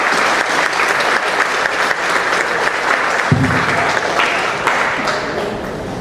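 A church congregation breaks into sustained applause during a Spanish-language service, a dense, steady wash of clapping that fills the whole stretch at an even level.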